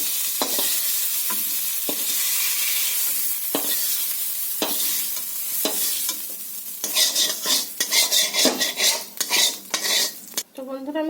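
Fried seeded plantain and potato pieces are lifted out of a pan of sizzling oil, with a steady fry hiss, then clustered metal spatula scrapes and clinks against the pan toward the end.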